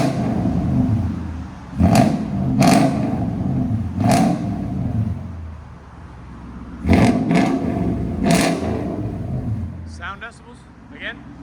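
A car with a true dual stainless exhaust idles with a deep rumble and then revs loudly several times in close, rising bursts, while people talk nearby.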